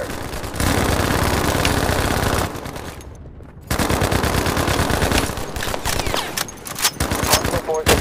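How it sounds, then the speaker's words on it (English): Automatic gunfire rattles through a Battlefield Mobile battle, with rapid bursts of machine-gun fire that drop out briefly near the middle and then resume with scattered shots. "is receiving enemy fire"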